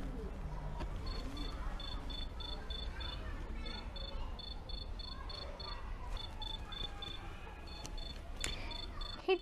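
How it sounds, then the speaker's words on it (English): A cricket chirps in steady, evenly spaced bursts of high trills, repeating throughout over a muffled background with faint talk underneath. "So this is the sound of the cricket and we all can hear it at nights."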